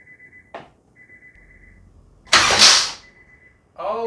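A K-swapped car engine cranks and catches in one loud burst lasting under a second, then cuts out; a faint chime sounds before and after, and a brief sharp click comes earlier.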